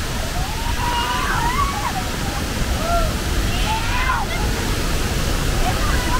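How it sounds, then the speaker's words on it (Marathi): A large waterfall's rushing water roars steadily in the background, broadband and constant, while a few short whistled or chirping tones rise and fall over it. "किती मोठा आवाज आहे धबधब्याचा आवाज ऐका"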